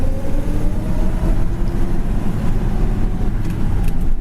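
A 1955 Chevrolet Cameo pickup truck drives with its engine running as a steady, loud, low rumble throughout, with constant road and cabin noise and no talking.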